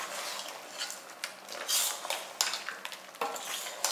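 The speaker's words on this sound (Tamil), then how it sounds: "ஊற்றிட்டு எல்லாம் ஒன்றா சேர்த்து ஒரு ரெண்டு நிமிஷத்துக்கு கிளறணும்" A spoon stirs ground coconut masala into chicken gravy in a pan, making soft, wet scraping and shuffling sounds. The pan clinks now and then.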